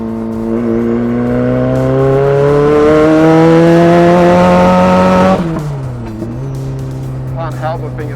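A 300 bhp Mazda MX5 drift car engine revs up in a long rising pull, loud and close, its tone climbing for about five seconds before dropping sharply and settling into a lower idle-like drone, with faint voices near the end.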